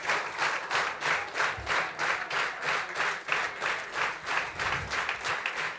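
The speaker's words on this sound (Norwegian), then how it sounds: "Det er ikke oss dere skal klappe for, det er Giuseppe Verdi, faktisk." Audience applause fills a concert hall after a tenor sings an excerpt from Verdi's opera Un ballo in maschera, a steady, dense wash of clapping with pulsing swells throughout, with no voices over it.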